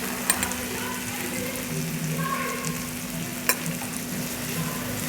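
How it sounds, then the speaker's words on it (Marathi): Onion, tomato and turmeric fry in a pan for an okra bhaji, giving a steady close sizzle broken by a couple of sharp clicks from stirring. "कांदा फ्राय झालेला आहे आपला चांगला. आता आपण यामध्ये टॅमॅटो टाकून घेऊ."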